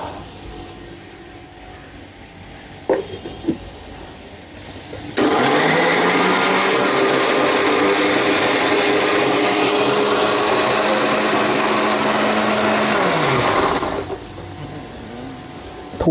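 A kitchen mixer grinder blends mint leaves for a drink, starting abruptly with a loud steady whir that runs for about eight seconds before cutting off, after a few small clicks.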